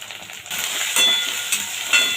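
Onion, ginger paste and carrot frying and sizzling in a pan, a steady close sizzle that swells louder partway through, with brief stirring scrapes and light utensil clinks.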